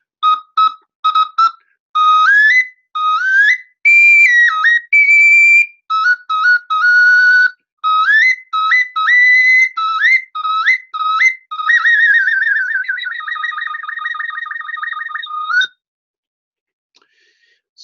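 A Teotihuacan double-chambered globular clay whistle with three finger holes is played solo, loud and close, in short tonal bursts and trills that shift pitch, ending with a long wavering held note before silence.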